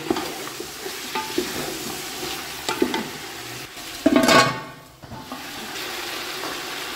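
Ginger garlic paste stirred and fried in a pot, giving a steady sizzle with scraping spoon strokes and one louder hissing burst midway, close with no talk.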